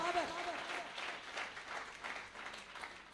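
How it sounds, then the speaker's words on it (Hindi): An audience at a poetry gathering applauds to welcome Ishfaq Babar, with a soft, continuous wash of many hands clapping at a moderate distance while a voice speaks over the start. "आपकी भरपूर तालियों में जनाब इशफाक बाबर।"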